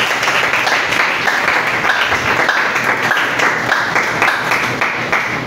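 A church congregation applauds the Lord, dense sustained clapping from a large crowd filling the room steadily for several seconds, loud and close.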